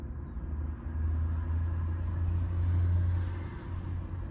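A 2021 Toyota 4Runner pulls away after being shifted into gear, its steady low engine and road rumble swelling slightly and holding at a constant level with no voices.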